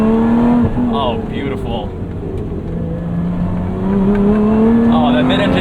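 Lotus Emira, a modified 2024 mid-engine car, pulls hard under throttle with a steady, rising engine drone that sweeps upward and swells toward the end, while someone speaks briefly over it.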